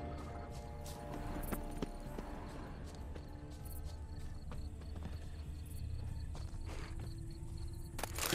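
A horse walks in The Witcher 3 on PS4 with soft, quiet clip-clop hoofbeats over a steady bed of crickets and insects, faint and distant.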